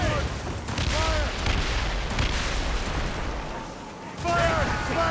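Ship's cannons firing during a naval battle in Assassin's Creed Rogue, a dense run of booming shots and rumbling blasts with shouted crew voices over the barrage.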